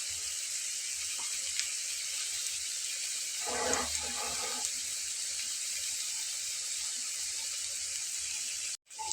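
Steady hiss and sizzle of bread snacks frying in about half a cup of hot oil, continuous and even throughout, with a few brief clinks and stirring noises partway through.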